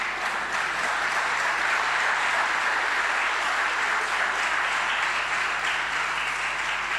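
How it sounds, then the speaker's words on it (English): Sustained applause from a church congregation, dense and steady throughout at a moderate level, with no voices standing out above the clapping. "And if you clap for that"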